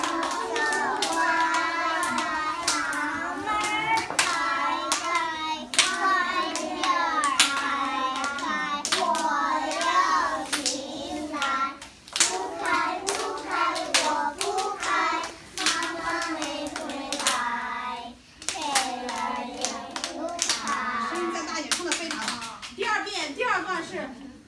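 Preschool children clap their hands while singing the nursery rhyme Little Rabbit Be Good, an adult voice leading; claps fall in a steady beat under loud sung voices throughout.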